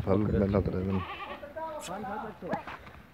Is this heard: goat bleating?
yes